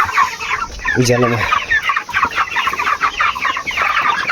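Chickens cluck and squawk close by on a poultry farm, with one loud, drawn-out call standing out among the busy flock, and a voice speaks briefly under the birds.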